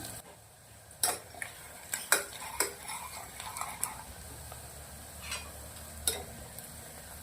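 Onions sautéing in oil in a pan give a low steady sizzle, with several sharp spoon knocks and scrapes against the metal as they are stirred, close and without talk.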